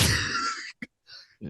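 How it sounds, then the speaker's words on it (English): A person coughs harshly while drinking milk to wash down spicy food: one long raspy cough burst, then a short hack and a few quieter throat sounds, close and alone. "I'm trying to wash it down and cough up the spice at the same time"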